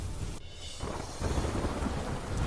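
Monsoon rain pours over Vadodara city with thunder: a dense, steady roar with deep low rumbling throughout, briefly thinning around half a second in before surging louder again.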